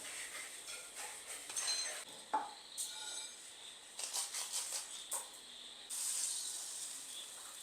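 Dry sizzling and scattered sharp crackles and pops from corn kernels dry roasting in a hot pan, irregular and close, with no talking.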